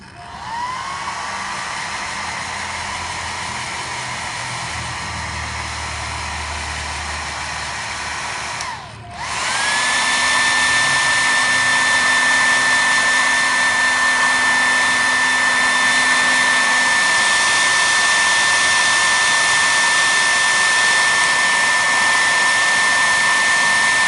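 A hair dryer blows steadily near a cat, a loud close whine that briefly cuts out and restarts at a higher, stronger pitch, then runs on continuously with no voices.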